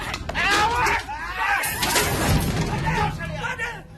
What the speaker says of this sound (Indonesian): itu rak kaca dilempar